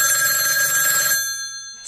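A telephone ringtone rings steadily and loudly as a bright electronic trill, then cuts out and leaves a fading tail.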